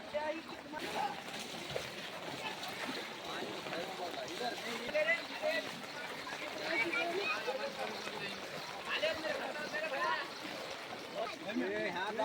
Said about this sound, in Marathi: किती पाणी आहे किती पाणी वाहत आहे